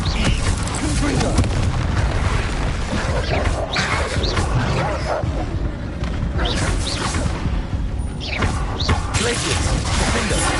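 A Confringo spell blast in Hogwarts Legacy goes off amid a rapid spell fight, with booming impacts and crackling bursts layered over a voice shouting spell names throughout.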